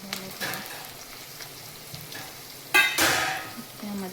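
Onions frying in a pan and being stirred, a continuous soft sizzle with scraping strokes of a spoon against the pan and a louder clattering stir near the end, close and fairly quiet.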